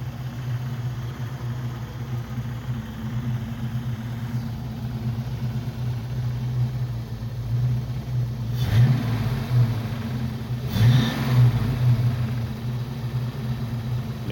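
An old car that has sat unused for a long time idles steadily with no charging system, a low, even hum broken by two brief revs that swell and fall back.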